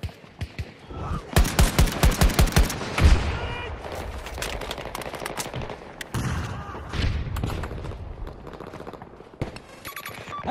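Rapid automatic gunfire bursts and heavy booms from infantry combat in Battlefield 2042 Portal, loud and close, with clusters of shots and explosive hits through a busy battlefield mix, with shouted voices at times.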